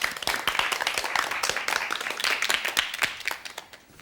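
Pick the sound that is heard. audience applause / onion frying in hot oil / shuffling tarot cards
audience applause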